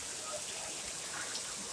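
Rain pours during a tropical storm as a soft, even wash of hiss that continues without a break for a moment, faint and with no voices.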